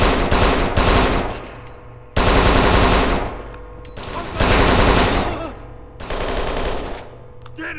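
Heavy automatic gunfire in the video game Kane & Lynch 2: Dog Days, loud close bursts of rapid shots broken by short pauses, several sustained volleys in succession.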